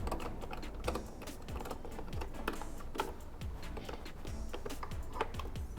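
A T25 Torx screw on an Aprilia RS457 motorcycle is turned by hand through an extension during a Rizoma mirror install, giving a dense run of small, fast, ratchet-like clicks up close with no talking.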